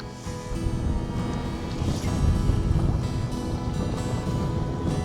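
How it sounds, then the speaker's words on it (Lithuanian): Gusty wind blows steadily across a lake during a fishing outing, roaring and buffeting close to the microphone along with faint water and boat noise, with no voices. "Vėjas, sakyčiau, dar didesnis šiandien į mane pučia negu vakar"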